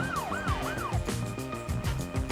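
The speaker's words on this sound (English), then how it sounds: "Oh, an ambulance." An ambulance siren in Cities: Skylines II sweeps up and down in three quick cycles over a steady game soundtrack with a rhythmic beat.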